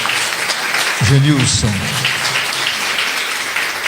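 A church congregation at a novena service claps steadily in the background while someone speaks a name over a microphone.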